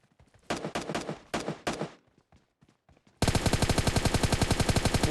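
Gunfire in PUBG Mobile Lite: several short bursts of rapid shots, then after a pause a sustained loud, evenly spaced automatic volley close by.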